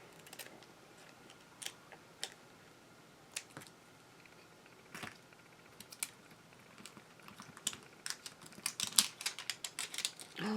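Scissors snip small dark purple plastic flowers loose from their sheet, leaving sparse, faint, sharp clicks close by that grow more frequent toward the end.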